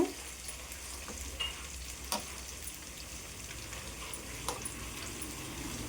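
Chopped onions fry in a pan with a steady, soft sizzle. A few faint clicks of stirring come through, close and quiet with no talking.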